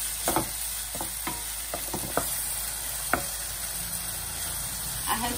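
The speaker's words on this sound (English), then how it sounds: "And saute the onion till it becomes translucent." Finely chopped onion sizzles steadily in hot oil in a pan, with a spoon stirring and knocking against the pan now and then, close and fairly loud with no talk.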